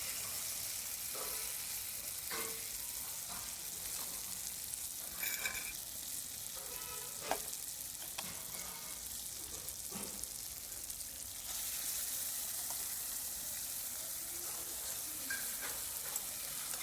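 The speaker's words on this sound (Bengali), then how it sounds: "এর মধ্যে এবার মাংসটা দেবো।" Chicken pieces sizzling steadily in a pan on a clay stove, a continuous close frying hiss broken by occasional scraping stirs and clinks, with no talk.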